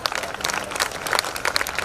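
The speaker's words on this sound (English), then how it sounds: "A round of applause for everyone who's here." Audience at a school alumni open house event applauding, dense continuous hand clapping from a crowd indoors, fairly close and sustained throughout.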